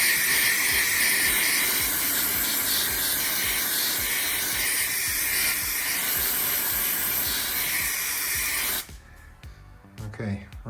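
Paint stripper sprayed in a long, continuous loud hiss onto an intercooler, steady for about nine seconds before cutting off, followed by a few faint handling clatters.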